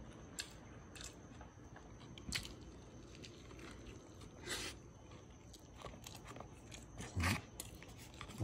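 Someone biting and chewing McDonald's drive-thru food: soft, close crunches and squishy chews at irregular intervals over a quiet background, faint overall.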